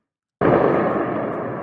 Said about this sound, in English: explosions being heard in eastern Tehran as a result of the air defense system operating.